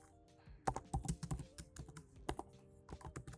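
Rapid, uneven typing on a computer keyboard while coding, close and crisp, with bursts of sharp key clicks and brief pauses between runs.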